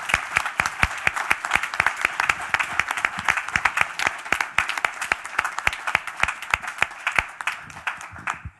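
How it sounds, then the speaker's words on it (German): Applause rises from an audience at a panel discussion event, a fairly small crowd clapping in a lively, uneven patter with distinct nearby claps, steady throughout and fading slightly at the end. "Ich glaube, den Applaus, den haben Sie sich."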